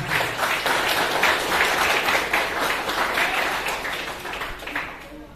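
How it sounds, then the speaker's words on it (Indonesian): A crowd claps and applauds steadily for several seconds, fading slightly toward the end. "Tepuk tangan."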